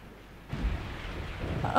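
Rain hiss with low rumbling thunder in Resident Evil 3: Nemesis (1999), starting quietly and swelling into a steady deep roll after a half second, moderately loud, with no voices.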